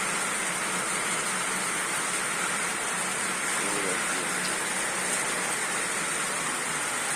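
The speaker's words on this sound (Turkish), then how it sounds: "yağmur yağdığı için şu an alamayacağım muhtemelen" Steady rain hisses down in a continuous, even wash of noise, with no clear individual drops and no speech.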